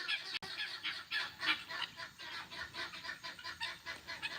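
Chickens are herded toward their coop, giving a steady murmur of clucking and squawking from several birds, moderately close and continuous.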